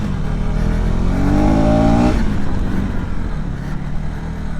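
Off-road motorcycle on a dirt track, a KTM Adventure engine revving up loudly and steadily climbing in pitch, then dropping to a rougher lower drone as it eases off, close and alone.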